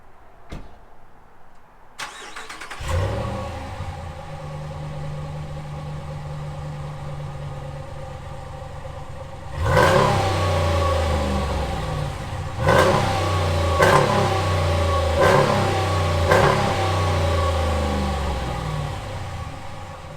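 Stock-exhaust 2017 Dodge Ram 1500 with the 5.7 Hemi cold-starts with a brief crank and catches into a deep, loud idle, followed by several sharp throttle blips that rise and fall, heard close with no talking.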